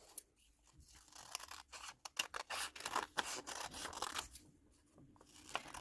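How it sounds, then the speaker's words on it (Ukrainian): Scissors cut fabric close by for a raglan sleeve, a quiet series of crisp snips and rustles in irregular bursts, with no talking. "І тепер я вирізаю рукавчик."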